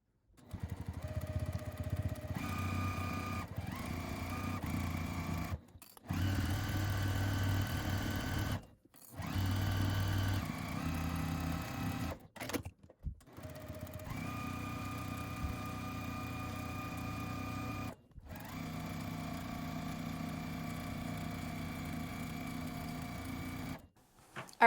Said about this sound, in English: We're going to take both of these over to our machine and sew down this side edge.